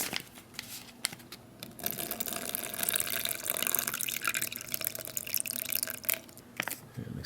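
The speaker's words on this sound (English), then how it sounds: "Let's see if I can fill it up without making a mess" Water splashes and trickles steadily into a plastic bag for a self-heating ration meal, a continuous pouring sound with light crinkling, close by and with no talking.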